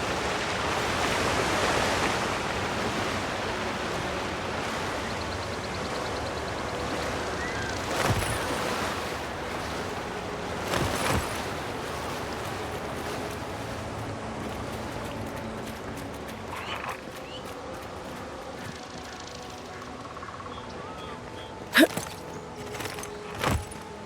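A waterfall in the video game Avowed rushes in a steady, broad wash of falling water, loud and constant, with a few brief knocks and clicks from the game toward the end.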